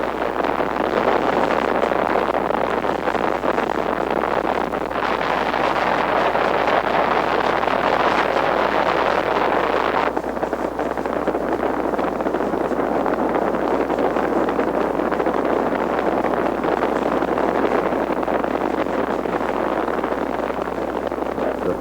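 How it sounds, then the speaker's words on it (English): Apollo 8's Saturn V rocket thunders at liftoff from its launch site, a continuous, broad roaring rumble with wind-like buffeting that holds steady and loud throughout. "We have liftoff. Liftoff at 7:51 a.m. Eastern Standard Time."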